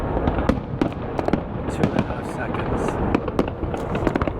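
Fireworks at the Calgary Stampede crack and boom in a dense, continuous barrage, with sharp bursts and crackling layered over a steady roar of distant explosions.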